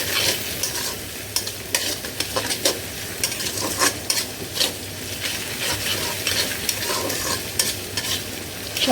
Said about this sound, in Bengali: আর একটু ভেজে নিই এই যে চিংড়ি মাছগুলি একটু হলুদ দিয়ে একটু লবণ দিব